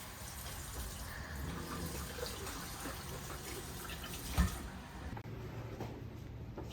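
Water runs steadily from a tap aboard a boat while dishes are washed by hand, quiet and continuous, with a soft clunk of dishes partway through.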